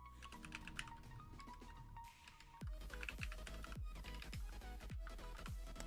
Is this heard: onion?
no